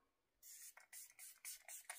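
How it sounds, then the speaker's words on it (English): A setting spray bottle with a fine mister puffs out several short, hissy sprays in an uneven rhythm, close to the microphone and fairly loud, with no talking. "This setting spray. Well, it's got a nice mister on it."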